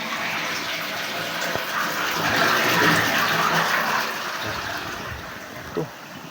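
Water pouring strongly from a leak and overflowing a full tank, a constant gushing rush that swells in the middle and then eases, with a brief splash near the end.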